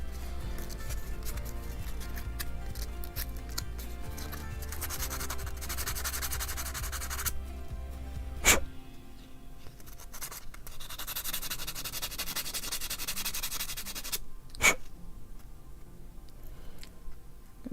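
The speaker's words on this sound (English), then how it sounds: "Sand that out a little bit actually." A part is sanded by hand, rough scratchy rubbing strokes in uneven stretches with two sharp clicks along the way, close and fairly faint.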